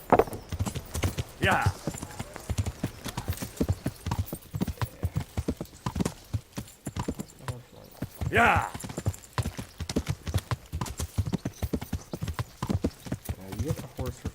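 Horse hooves clip-clop in a steady, rhythmic trot in the video game Kingdom Come, close and continuous, with a couple of brief neighs and someone talking intermittently over the hoofbeats.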